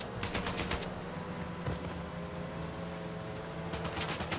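Rapid bursts of gunfire from the video game Uncharted 4, with dense automatic volleys at the start and again near the end and a single sharp shot between, all over a steady background hum.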